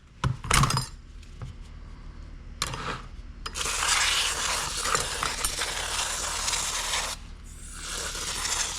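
Aerosol brake cleaner sprayed onto greasy, oily Ducati clutch plates in a workshop, a few short hissing bursts followed by a long continuous spray that pauses briefly and resumes, close and loud.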